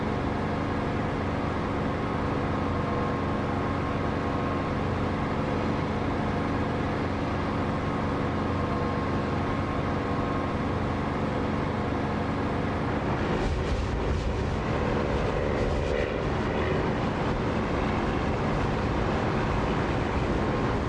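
A flight simulator aircraft engine in DCS with the canopy closed, a steady muffled drone and hum filling the whole stretch, with a brief rougher, shifting roar partway through as the plane maneuvers.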